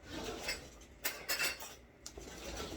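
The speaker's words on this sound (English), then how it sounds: "I'll just start scooping it out" Spoon scooping butter out of a container while making buttercream frosting, several soft close scrapes and clinks of metal on the dish, with quiet pauses between.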